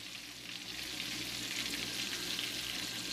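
Shrimp frying in a pan, a steady close sizzle and crackle of hot oil with a few soft stirring bumps, continuous and fairly loud throughout.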